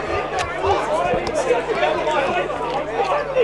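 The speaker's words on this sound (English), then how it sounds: "Just some of the Wandin brethren suddenly making a little bit of noise as the ball goes back in the middle." Spectators at a local premier senior football match between Narre Warren and Wandin make a lively burst of noise, a steady crowd murmur with shouts rising under a commentator's talk.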